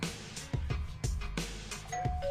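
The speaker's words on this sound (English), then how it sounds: "Is somebody else ring that doorbell?" A faint two-note doorbell chime sounds near the end, quiet and distant, among scattered soft thumps and room noise.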